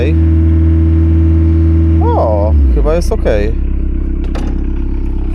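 A van engine runs after a fuel primer bulb replacement, a loud, close, steady hum that wavers partway through as someone talks over it, then settles back into an even idle.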